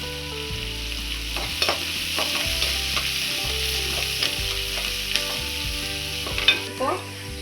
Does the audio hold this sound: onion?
yes